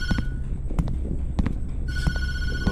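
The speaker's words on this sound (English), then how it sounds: "Don't answer the phone." A telephone rings in the horror video game Tattletail, a repeating electronic bell with two bursts of rings separated by a pause, loud and close with no talking.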